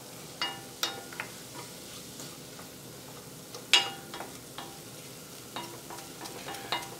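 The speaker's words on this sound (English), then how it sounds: "Just get that sauteed in there a little bit." Mustard powder, kosher salt and cayenne sauté in a pot for a Hatch chili BBQ sauce, a quiet low sizzle punctuated by sharp utensil scrapes and taps at irregular intervals, with no speech.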